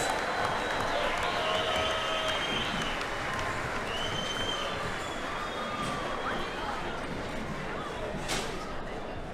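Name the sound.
applause for the shearers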